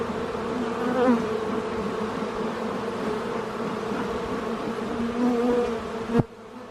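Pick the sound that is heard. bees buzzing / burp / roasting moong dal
bees buzzing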